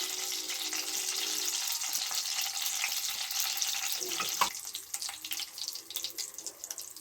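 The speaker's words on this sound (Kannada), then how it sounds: "ಇವಾಗ ಎಣ್ಣೆ ಬಿಸಿ ಆಗಿದೆ ಸಾಸಿವೆ ಜೀರಿಗೆ ಹಾಕೊಳ್ತಾ ಇದ್ದೀನಿ" Mustard and cumin seeds crackle and sizzle in hot oil in a pan, a steady dense hiss held close, with a few sharper pops and clicks near the end and no talk.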